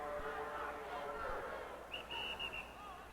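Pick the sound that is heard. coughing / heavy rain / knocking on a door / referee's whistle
referee's whistle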